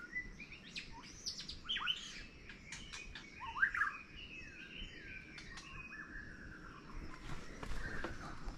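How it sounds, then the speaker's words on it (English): Birds call and chirp along a hiking trail near Diamond Head, a steady stream of bright tweets and short whistled phrases over soft outdoor ambience, moderately near with no talking. "Oh wow, look at that bird."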